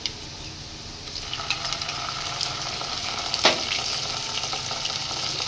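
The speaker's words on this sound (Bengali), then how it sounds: "পেঁয়াজটাকে আমি লাল লাল করে আগে ভেজে নেব" Onions fry in hot oil as they brown, giving a continuous close sizzle with small crackles and one brief sharper burst partway through.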